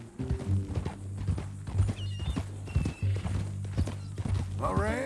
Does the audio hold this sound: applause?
no